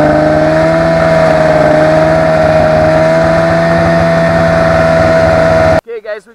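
A snowmobile towing a loaded sled on a snowy Utah trail holds a loud, close, steady engine drone with a strong hum. It cuts off near the end, and a voice speaks briefly.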